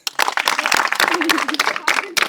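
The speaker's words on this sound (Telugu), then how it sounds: "చప్పట్లు కొట్టండి" A crowd claps in a steady burst of applause, with voices mixed in underneath.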